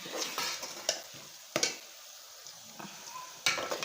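Golden onions frying in a pan for a spicy village-style Bengali fish curry, a faint steady sizzle with a few sharp spoon-and-pan clicks and scrapes breaking through at intervals.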